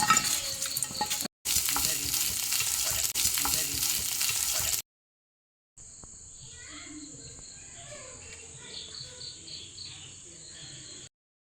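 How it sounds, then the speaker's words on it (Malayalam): Ingredients for pachadi sizzle and hiss in a hot pan as they are stirred and sautéed, a steady close frying sound with scraping, broken by a short gap, with insects chirping faintly in the background. "നല്ല രീതിയിൽ ഇതൊന്ന് വഴറ്റിയെടുക്കണേ"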